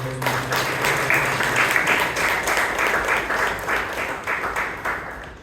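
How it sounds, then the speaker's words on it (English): A Toastmasters club meeting audience in Bangalore bursts into a round of applause, the many overlapping claps holding at a steady level before gradually thinning and fading out toward the end. "Let us give a big round of applause to the"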